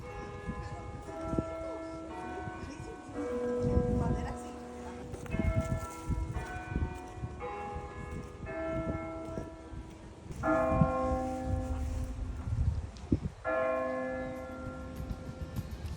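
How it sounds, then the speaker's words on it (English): Mission church bells ringing in Solvang, California, a steady series of resonant tolls that carry on through the whole stretch, heard outdoors with faint background noise. "We even heard the mission bells chime while we were there."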